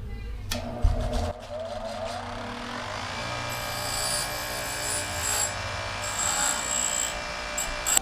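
Bench grinder with grit wheels working on metal pop-up camper parts, a steady whine with harsh grinding bursts near the start and continuing abrasive scraping throughout, close and fairly loud.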